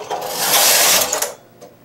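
A knitting machine carriage sweeps across the needles while a baby bootie is knitted, giving one close, loud mechanical whirring slide of about a second that ends in a brief click.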